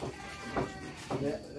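Goats bleat twice in short, wavering cries, spaced about half a second apart, with people talking faintly in the background.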